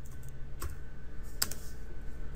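A few separate keystrokes on a computer keyboard while entering a router command in network configuration practice, sparse clicks close by over a steady low hum.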